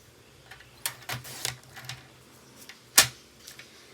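Paper being cut for a scrapbook album page, giving a few soft snips and clicks, one sharper close snip standing out near the end, with quiet pauses between.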